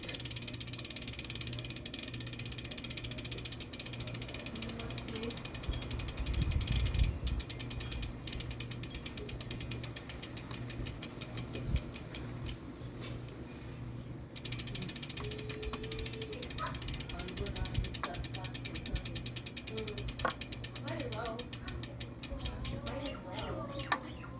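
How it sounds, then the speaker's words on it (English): A ratchet clicks in bursts as the retaining bolt on a road bicycle power meter is tightened, a close, steady ticking over a low background hum, with some speech at moments. "And tighten the retaining bolt."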